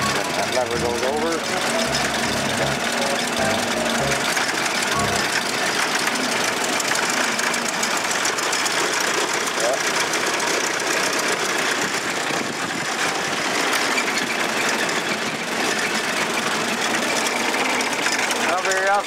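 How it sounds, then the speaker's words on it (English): A 1914 Ford Model T engine runs steadily with a busy mechanical clatter and rattling rhythm, close and loud, while people talk over it. "Not very often you can look right down and see their engine."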